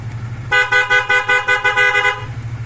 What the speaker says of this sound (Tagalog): Busina pogi. Busina muna tayo.